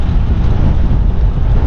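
Strong wind buffets the microphone at the summit of the Col de l'Espigoulier mountain pass while cycling, a loud, steady low roar that fills the whole short stretch with no voices.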